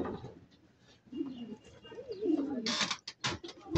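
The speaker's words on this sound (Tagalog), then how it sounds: "Dalawang light checker nandito na agad mga kaibon." Racing pigeons, light checkers, arrive at the loft after a 130 km race and give soft cooing calls close by, followed by a burst of wing flaps and rustling.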